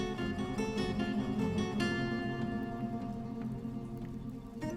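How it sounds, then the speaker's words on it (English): Water rushes and splashes in a steady, loud wash with spattering drops, a broad continuous roar that eases slightly toward the end, with no voices. "Here comes the water."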